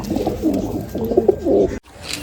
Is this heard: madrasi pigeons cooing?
yes